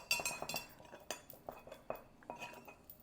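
A utensil stirs and scrapes through dry cake ingredients in a bowl with repeated light clinks and taps, close and quiet, in an irregular rhythm.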